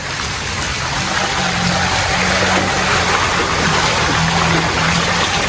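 Floodwater rushes through a flooded street in Inuvil, Jaffna, Sri Lanka, during heavy rain, a loud continuous roar of moving water with no voices.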